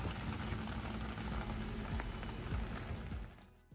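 Steady, dense hiss of heavy rain pouring down, loud and continuous, fading out near the end.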